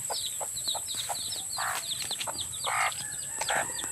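Native chickens cluck and chatter in short repeated bursts at close range, with bird chirps scattered throughout and a steady high background hiss.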